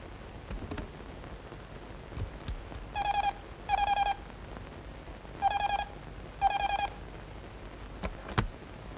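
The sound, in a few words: telephone being dialed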